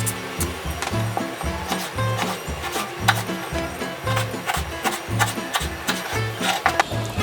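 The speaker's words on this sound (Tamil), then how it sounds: "முதல் 2 சைடு உள்ள கன்னத்தையும் வெட்டி எடுத்துக்கிறேன்." Knife cutting the cheeks off a peeled raw mango for pickle, giving rhythmic rubbing, scraping strokes at a steady pace, close and clear with no talking.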